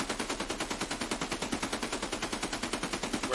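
Steady rapid automatic gunfire in the video game Escape from Tarkov, an even, fast string of shots at moderate distance with no pauses.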